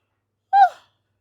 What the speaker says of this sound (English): that was a yawn for confirmation